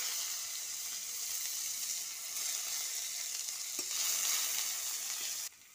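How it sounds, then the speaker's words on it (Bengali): Grated onion and spices frying in hot oil, a loud, steady crackling sizzle that holds throughout and cuts off abruptly near the end, with no speech. "তেল গরম হয়ে গেছে, এবারে মশলাগুলো আমি ভেজে নেব। গ্রেট করে রাখা পেঁয়াজ কুচি,"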